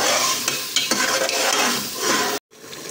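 Lentil dal (moong or masoor) cooks in oil in a pot, with a dense close sizzle and stirring scrapes that break off abruptly near the end.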